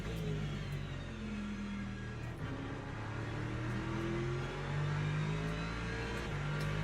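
An LMP2 prototype race car in Le Mans Ultimate, its engine revving and shifting through gears with a steady loud droning whine close by, pitch rising and falling across the pass.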